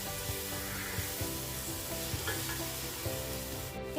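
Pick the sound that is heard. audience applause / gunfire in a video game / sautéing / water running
sautéing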